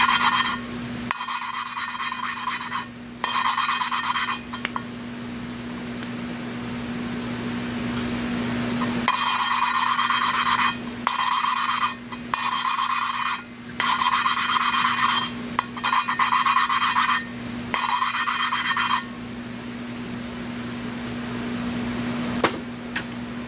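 Hand lapping of valves in a Nissan VQ35DE cylinder head: repeated bursts of gritty rubbing and rasping grind, close and steady, broken by short pauses, over a constant low hum, with no talk.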